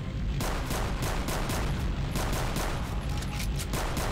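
Rapid gunfire rattles in the Wolfenstein/Doom mod Blade of Agony, a dense string of loud repeated shots that carries on without pause for several seconds, with no voices.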